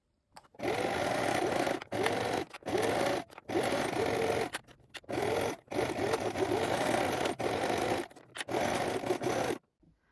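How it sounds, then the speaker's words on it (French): A sewing machine runs a straight stitch around the edge of a trouser pocket in several sustained bursts of close, loud whirring, broken by short pauses as the fabric is turned, with no talking. "Vous allez coudre au point droit à 1 cm du bord tout autour"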